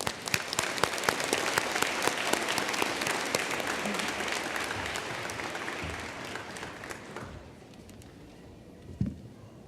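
Commencement audience applauds graduates of a healthcare administration master's program at a university ceremony, steady crowd clapping filling a large venue before thinning out toward the end.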